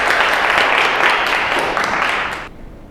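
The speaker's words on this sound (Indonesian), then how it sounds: "Tepuk tangan dulu untuk Mbak Dina." An audience at a lecture-style certification session claps together, a full, even burst of applause that fades out abruptly near the end.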